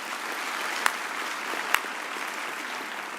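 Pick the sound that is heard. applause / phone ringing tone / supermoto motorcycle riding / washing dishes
applause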